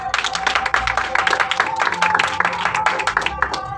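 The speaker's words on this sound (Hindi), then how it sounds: "तालियां।" Audience applause at a seminar, many hands clapping together in a dense, continuous burst that fills the room and holds steady throughout.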